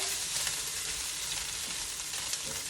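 An egg fries in a pan on very low heat, giving a dense, even, continuous crackling sizzle close up with no other sounds.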